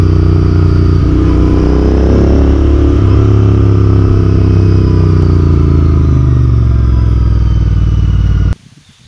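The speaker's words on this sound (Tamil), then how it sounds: "நம்ம இன்டர்செப்டர் 650 ஓட்டி பார்த்தோம்" A Royal Enfield Interceptor 650 motorcycle engine runs steadily and loudly for several seconds with subtle pitch changes, then cuts off abruptly near the end.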